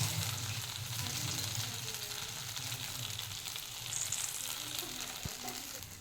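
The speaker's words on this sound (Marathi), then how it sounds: "आपण याला पलटवून घेऊ। दुसऱ्या बाजूने पण याला 2 मिनिट शिजवून घेऊ।" Spring onion flatbread cooking on its flipped second side, a soft, even sizzle close by with a low background hum and one sharp tap near the end.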